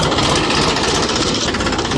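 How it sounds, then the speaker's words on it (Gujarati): A tractor engine on a garlic field runs loud and close, a dense continuous diesel rumble with a steady throb that fills the clip without pause. "ટ્રેક્ટર પાછું વરી રહ્યું છે"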